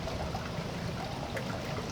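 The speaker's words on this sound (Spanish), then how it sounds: "Vamos a la fuente para que lo llene de agua" Water runs from a fountain into a container, a soft continuous stream and trickle with gentle gurgling, fairly quiet and steady with no voices.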